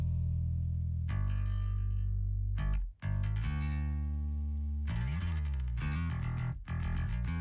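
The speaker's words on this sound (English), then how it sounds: "You're hearing a little bit of that distortion there" Distorted electric guitar chords ring out in a hard rock mix, gritty and sustained with harmonic buzz, broken by a brief dropout and a few chord changes, with no voices.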